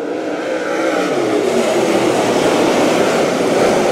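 Race cars restart on lap 23 with a loud, sustained engine roar that builds and holds as the pack accelerates together, with no voices.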